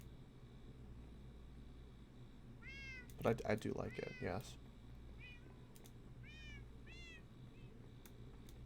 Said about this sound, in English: Your cats are very noisy, by the way.